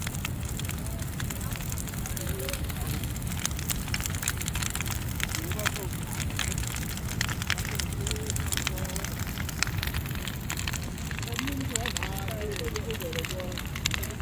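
A large outdoor bonfire burns just after rain, with a steady crackling, rushing roar that runs throughout under a person talking.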